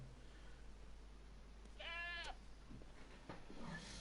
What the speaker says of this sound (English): I've got 2 goats here.